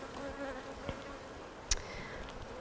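Honeybees buzzing at an open hive during a beekeeping inspection after smoke is applied, a faint steady hum with a few louder insects passing close and a brief sharp knock.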